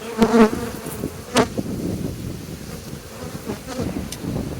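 Steady insect buzzing of honey bees at a hive fills the clip, with a few louder passes of individual bees close by over a continuous hum.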